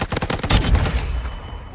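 Rapid, loud rifle fire from a sniper in the Call of Duty first-person shooter, a burst of sharp shots that starts at once and trails off into a decaying echo within two seconds.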